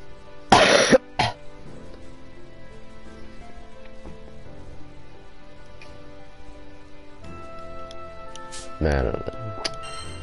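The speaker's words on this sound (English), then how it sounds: "I'm sorry for coughing the mic" Two loud, harsh coughs blast straight into a close microphone near the start and another burst near the end, with quiet background hum between.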